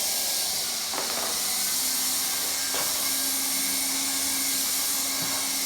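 A hot air welder blows a loud, constant hiss while heat welding a seam in vinyl sheet flooring, with a faint tonal hum running underneath.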